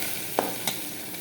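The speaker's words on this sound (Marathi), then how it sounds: "व्यवस्थित याला भाजून घ्यायचं." Onion and garlic paste frying in a pan for chicken masala biryani gives a faint, steady sizzle, with two brief scraping stirs standing out.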